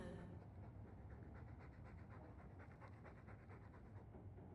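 A dog pants steadily and rapidly close by, a soft rhythmic breathy sound against low background rumble, with no talking.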